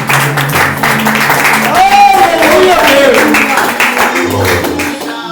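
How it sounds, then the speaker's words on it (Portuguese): A church congregation claps in steady, dense applause that runs for several seconds, with voices and tonal music-like sounds carrying over it. "Aplauda o Senhor, receba para a sua vida."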